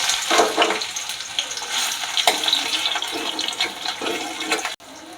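Sliced onions dropped into hot oil in a wok burst into a loud, close sizzle with scattered spatters and stirring clatter before cutting off abruptly near the end.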